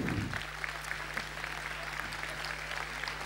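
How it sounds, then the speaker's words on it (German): Applause from a crowd at a German Pirate Party federal conference, a steady dense patter of clapping that stays even throughout at moderate loudness, with no voices over it. "Bitte, dein Applaus"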